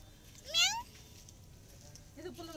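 A cat meows once, clear and close, with a second fainter cat-like call near the end over quiet room noise outside a hostel.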